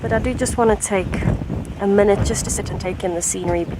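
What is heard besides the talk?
None of the usual background noises is heard.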